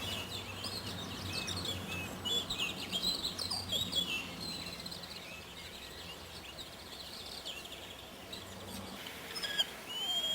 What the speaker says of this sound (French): avons toutes sortes d'oiseaux ici